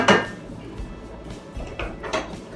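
A lid or cover clatters onto a pork chop casserole dish in a kitchen: a sharp clink up front, then a few lighter knocks and scrapes of cookware spread over a couple of seconds, close by with no talking.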